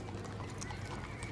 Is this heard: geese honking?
no